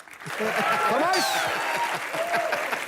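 Studio audience applause on a Hindi comedy show, a steady wash of clapping with a voice talking over it throughout, fairly loud and continuous.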